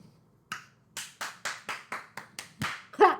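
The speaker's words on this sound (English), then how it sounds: "Claps for her." Hands clap nearby, about nine crisp, evenly spaced claps in a steady rhythm after a short pause, with the final clap louder than the rest.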